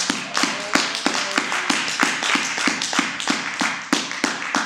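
A church congregation claps in a fast, steady rhythm, loud and close, with crisp repeated hand claps continuing without talk for several seconds.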